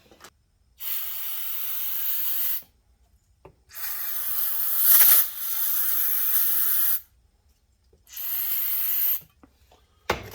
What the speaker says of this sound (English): I'll put some brake clean down in there